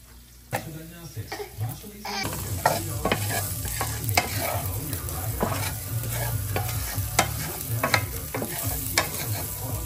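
Onions frying in a pan with bacon or hot dogs for baked beans with sausages, a loud continuous sizzle with frequent stirring clatter and scraping, people talking faintly underneath.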